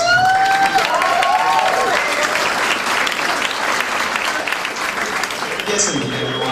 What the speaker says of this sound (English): Let's get one more round of applause for Susie